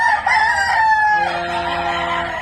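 A three-year-old broodcock rooster crows once, loud and close, a long drawn-out call with no one talking over it.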